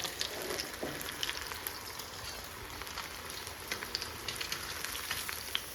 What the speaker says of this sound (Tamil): அந்த மீன் கொஞ்சம் ஃப்ரிட்ஜில் வச்சுருந்தேன் அதை எடுத்து அவனுக்கு பொறிச்சு வச்சிடலாம்